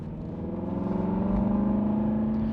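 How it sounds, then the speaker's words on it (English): Aston Martin V8 Vantage exhaust giving a deep, steady burble with a low rumbling throb, close and continuous, rising slightly in pitch without talk. "you just get a glorious, raw, American muscle car burble out the back of the exhaust"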